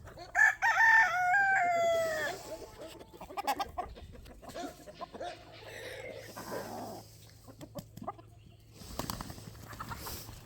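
At the start a big rooster gives one loud crow at close range, then softer clucking and scattered fowl calls follow from chickens and roosters, with a dog-like sound mixed in.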